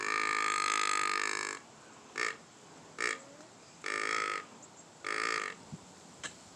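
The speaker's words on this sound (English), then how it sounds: "A boy deer makes a noise like this. It's called a grunt." A male deer's grunt played as a call sample, a series of harsh buzzy croaking grunts, one long drawn-out note followed by several shorter bursts, fairly faint with no talking.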